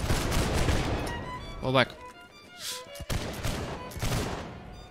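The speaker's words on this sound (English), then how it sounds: "They just fired." Rapid gunfire volleys crackle in the Holdfast battlefield game, dense bursts of musket shots near and far, layered under players talking over voice chat.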